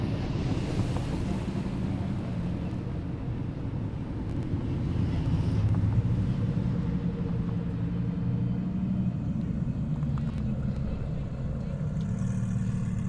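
A Nissan GTR Nismo makes a high-speed pass on an airstrip, heard as a steady, broad engine and wind roar. A faint speaking voice sits over it, and the roar holds at an even level throughout.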